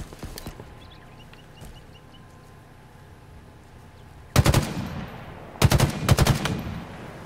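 Bursts of automatic gunfire from the video game Halo Infinite, with two loud, dense volleys in the second half after a quieter stretch holding a few faint shots.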